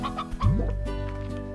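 Chicken clucking in the ranching game Slime Rancher: a few short, close clucks and a rising squawk over a steady game music bed, no talk.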